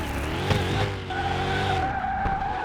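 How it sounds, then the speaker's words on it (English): A supercharged Crown Vic mod car in Car Mechanic Simulator 2021 roars around a track, engine droning loudly as its tires squeal and skid, the pitch shifting midway through a slide. "It's a supercharged car."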